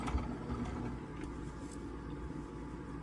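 Home sewing machine stitching a Dresden quilt block, fabric guided along the inside edge of the presser foot; a steady, close mechanical whir with rapid needle clatter runs unbroken throughout.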